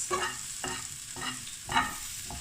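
Spice-coated chicken and tomatoes for a jalfrezi cook in a pan, with a soft steady sizzle under repeated stirring scrapes that come in roughly every half second, close by and fairly quiet, with no talking.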